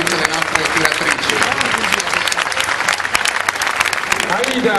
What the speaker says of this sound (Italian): Un grandissimo applauso a Margherita e a tutte le nostre tiratrici.